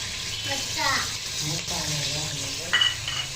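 Chilli, garlic and masala frying in oil in a pan while being stirred, a soft hiss with a clink of the utensil near the end, faint, with a voice speaking over it.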